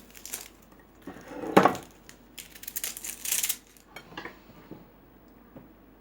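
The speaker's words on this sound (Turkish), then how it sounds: "küp küp soğanlarımızı doğruyoruz" A knife chops onions into small cubes on a cutting board in a handful of uneven, crisp taps, close by and moderately loud, with no talking.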